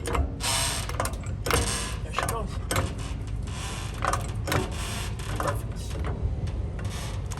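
A hydraulic jack is pumped to lift a Kenworth W900 fuel tank off its mounts, giving repeated ratcheting mechanical clicks and knocks in an irregular rhythm over a steady broadband background, close and fairly loud.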